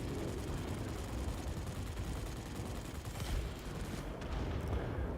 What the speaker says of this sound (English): now these are rifle caliber machine guns